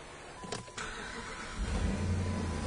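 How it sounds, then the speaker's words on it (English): A car engine cranks briefly, catches and settles into a steady idle, heard close up in a workshop after a compression test. "Car starts right up."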